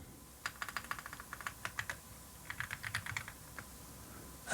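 Someone types rapidly on a new computer keyboard, the keys clicking close up in quick bursts and short runs with brief pauses between them.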